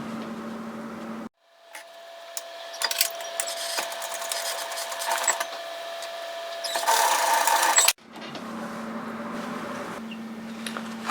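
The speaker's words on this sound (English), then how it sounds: "we're going to do is sew the seam at 1 centimetre" A domestic sewing machine stitches a dress seam at a one-centimetre allowance in a close, steady whirring burst of about six seconds, with a quieter hum before and after.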